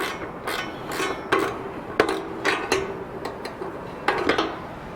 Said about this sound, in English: I just hold the L key in place and tighten up with a ratcheting wrench here.